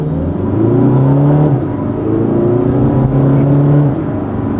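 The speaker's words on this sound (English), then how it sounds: "it's got some nice noise too with that turbo whine." A Volkswagen Beetle TDI Convertible's turbo diesel engine revs and pulls steadily, with a rising turbo whine layered over the low drone, loud and close, with no talking.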